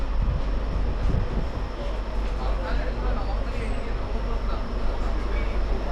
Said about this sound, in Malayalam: നമ്മുടെ ട്രെയിൻ ഇതാ കറക്റ്റ് 8:30 തന്നെ പുറപ്പെട്ടു കേട്ടോ